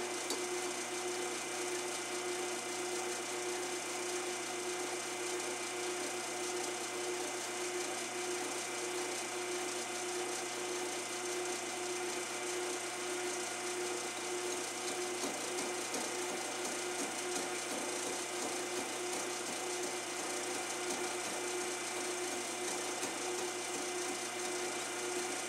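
Machining cut on a trailer jack repair part, a steady mechanical hum with faint grinding and whirring running evenly throughout, fairly quiet and without talk.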